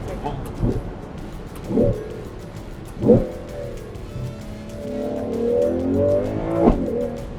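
A Ferrari 12Cilindri V12 engine on a track revs in short, sharp bursts that rise and fall several times while downshifting, then climbs into a longer pull near 9,000 rpm, with occasional talk over it.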